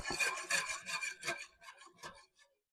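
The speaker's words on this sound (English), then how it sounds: "Then we're going to whisk it up." Yogurt culture being whisked into cooked milk, a run of close, rhythmic scraping strokes that grow quieter and trail off, with no speech.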